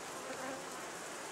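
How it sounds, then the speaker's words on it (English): Honeybees from a strong, densely packed hive make a steady, dense buzz that stays faint and close for a brief moment, with no voices over it. "how strong this hive is in terms of how thick these bees are right here"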